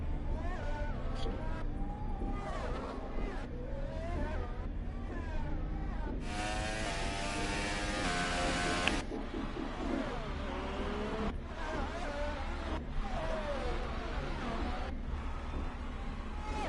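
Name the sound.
McLaren Formula 1 car engine in video game F1 2018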